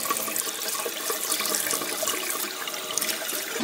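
Water gushes steadily from a tap as the water in a basin is changed, a dense, bright rushing and splashing that stays close and continuous throughout.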